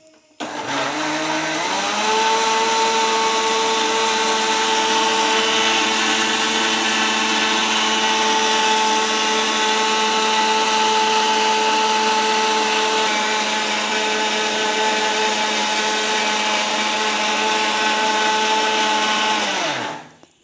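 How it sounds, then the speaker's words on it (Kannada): A kitchen mixer grinder re-grinds coarse homemade sambar powder spices, its motor whirring loud and steady for about eighteen seconds after a brief spin-up, then winding down at the end, with no talking. "ಅದನ್ನು ಬೇಕಾದ್ರೆ ಮತ್ತೆ ಇನ್ನೊಂದು ಸಲ ಮಿಕ್ಸಿಗೆ ಹಾಕಿ ಆಡಿಸ್ಕೊಳ್ಳಿ"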